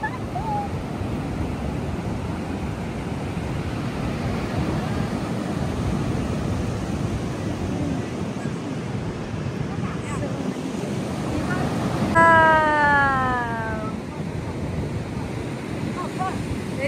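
Ocean waves and surf on the Victoria coast, a continuous broad roar with heavy wind buffeting the microphone, and a brief high whistle or call partway through.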